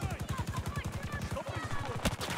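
Automatic gunfire in the video game Battlefield 2042, in infantry conquest on the Reclaimed map, rattles in a fast, steady stream of shots, briefly broken before resuming, with a sharper crack near the end.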